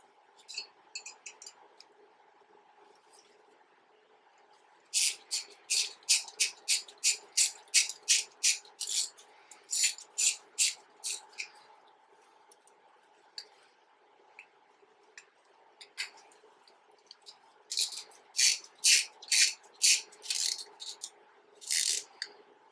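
Small screws are tightened into a two-stroke KTM/Husqvarna carburetor during a rebuild, giving bursts of rapid, close ratcheting ticks in quick runs separated by quiet pauses.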